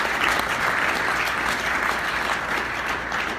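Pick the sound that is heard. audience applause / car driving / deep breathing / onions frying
audience applause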